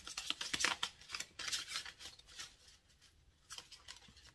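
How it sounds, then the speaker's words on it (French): A card drawn from a deck during a tarot-style reading, giving soft, close papery rustles and quick slides in a few short bursts, with no talking. "Alors, on va tirer une carte comme ça."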